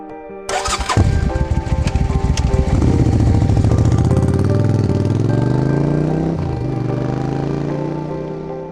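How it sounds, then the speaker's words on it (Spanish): A motorcycle engine fires up and settles into a loud, close running note, then revs and pulls away, its pitch climbing steadily before easing off near the end. "Subimos a la motocicleta y dejamos la zona."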